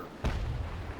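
A single heavy boom of a ship's cannon firing in the naval combat game Naval Action, a sharp low-frequency blast that rumbles on and decays through the rest of the moment, with no talk.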